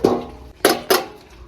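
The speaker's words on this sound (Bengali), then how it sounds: "এবার ঢাকাটা খুলে দেখি।" A metal lid comes off a pot of light village-style fish curry with potato and broccoli. Three sharp, close metallic clanks ring out, each fading quickly.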